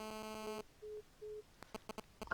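A phone-in call dropping on the line, heard as a steady tone followed by repeated short beeps of a busy signal, then a series of faint clicks and blips, thin and distant.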